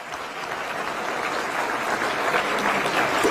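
Sustained applause rises from an audience at a Delhi government event honouring the forest and environment minister and his department, a broad, even wash of many hands that grows slightly louder toward the end.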